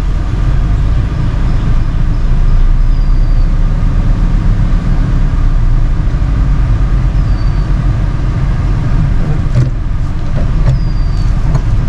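A Tata Nexon on a test drive, heard from inside as a steady loud low road and engine rumble that holds throughout with no speech.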